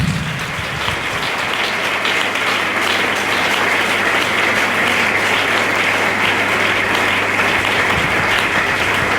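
A church congregation gives sustained, loud applause, a dense wash of many hands clapping at once, steady and unbroken from start to finish.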